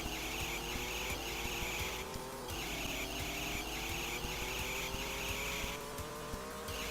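WEC Le Mans arcade racing game audio: a steady, loud race car engine drone with rising and falling pitch and bright, sustained tire squeals. It plays continuously with no talking.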